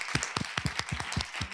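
A small symposium audience gives a short round of applause after a panel on Black religion and mental health, loud, close individual claps in an uneven patter with no voices over it.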